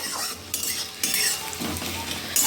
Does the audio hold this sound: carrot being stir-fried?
yes